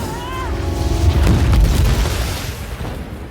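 A cinematic explosion from a superhero action film, a deep rumbling boom that swells and rolls for several seconds as the blast is hurled skyward, loud and close with a thick low-end roar fading slowly.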